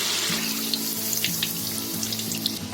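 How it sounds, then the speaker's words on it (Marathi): Small wheat flour pakoras frying in hot oil, a steady loud bubbling sizzle with a continuous hiss, close and uninterrupted. "तेल तापलं असलं ना आपलं की ते आपण असं जे पकोडे सोडतो ना ते सोडता वरती येतात बघा"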